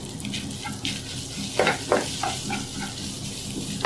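Faint sizzle of minced beef frying in a pan, with a few scraping stirs and clinks, no talking.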